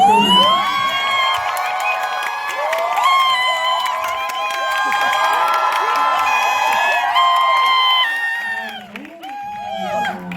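Busan citizens cheer and shout at a film stage greeting, a loud crowd roar with high voices mixed in and bursts of clapping. A voice carries over the noise, which dips briefly near the end.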